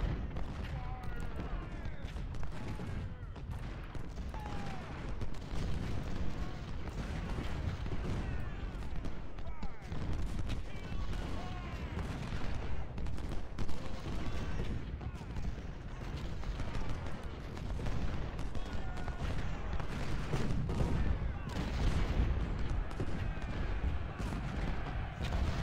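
Artillery fire in the Civil War strategy game Ultimate General: Civil War during a fort counterattack near Washington, a dense continuous rumble of booming cannon blasts and musketry through the whole stretch, with talk over the battle.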